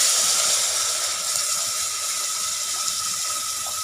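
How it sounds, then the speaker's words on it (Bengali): Water poured into fried gram flour for Sindhi kadhi, a steady, even stream of liquid pouring continuously at close range with no voices. "এবার দিয়ে দেব জল"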